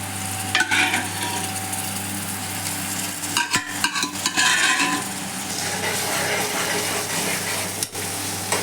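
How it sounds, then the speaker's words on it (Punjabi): Mashed tomatoes and eggplant frying for bharta, a continuous close sizzle with spoon scrapes and a few clinks against the pan while the mixture is stirred. "ਹੁਣ ਆਪਾਂ ਇਹਦੇ ਵਿੱਚ ਪਾ ਦੇਵਾਂਗੇ ਟਮਾਟਰ ਅਤੇ ਬੈਂਗਣ ਜਿਹੜੇ ਮੈਸ਼ ਕੀਤੇ ਹੋਏ ਆ"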